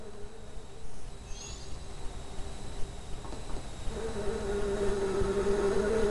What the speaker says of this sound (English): Oh my god, it's a bee!